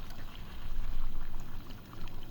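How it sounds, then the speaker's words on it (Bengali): A pot of chicken curry with meat and water bubbling over high heat, a steady close gurgling and hiss of boiling liquid that swells slightly and then eases, with no voices. "জাল বাড়িয়ে এবার ফুটতে দিয়েছি।"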